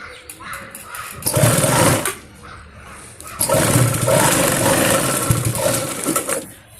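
A sewing machine stitches a small girl's plazo, running in two bursts: a short run of about a second, a pause, then a longer steady run of about three seconds, close and fairly loud.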